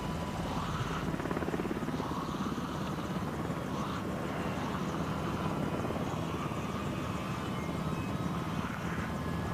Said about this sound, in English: There's a fucking helicopter.